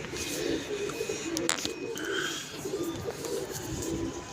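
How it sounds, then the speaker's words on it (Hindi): Pigeon calls and faint cooing against a steady outdoor hum, with a brief rustle of wings midway, fairly close and low in level. "ये दोस्तों कबूतर आया है किसी का"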